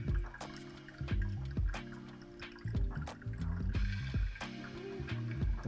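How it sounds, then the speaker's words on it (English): Hot water poured in a circular motion over ground coffee in a V60 drip brewer, heard up close as a series of short splashing, trickling pulses with no talking. "Once the coffee's bloomed, we then pour more water"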